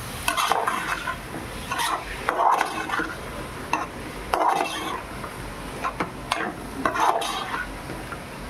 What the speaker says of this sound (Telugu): కడిగి పెట్టుకున్న చికెన్ వేసుకున్నాం